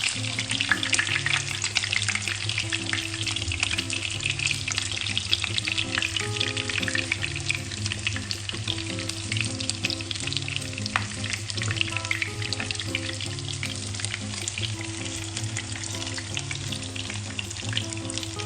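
Iranian cutlets fry in a pan, giving a steady, close, continuous sizzle that holds for the whole stretch over a soft, sustained tonal background.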